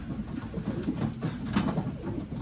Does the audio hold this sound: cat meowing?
no